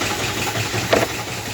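A BMW diesel engine idles steadily with a crank pulley fault, a continuous mid-pitched hum with a brief slightly louder knock or rattle near the middle, heard up close with no talking.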